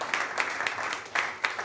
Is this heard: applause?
yes